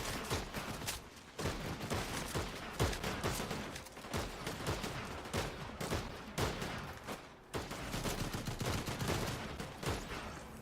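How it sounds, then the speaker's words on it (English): Dense, continuous video-game gunfire with rapid bursts and volleys layered over an explosive, busy mix, loud throughout with a brief dip before resuming. "Gunfire."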